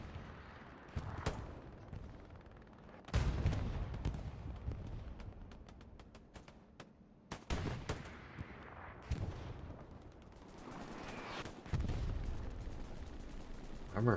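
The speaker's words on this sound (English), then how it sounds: "Armor firing up here, taking out everything, it appears." Tank armor fires during a competitive Hell Let Loose match, with several heavy, booming cannon shots spaced a few seconds apart, each with a sharp crack and rolling decay, amid scattered distant gunfire.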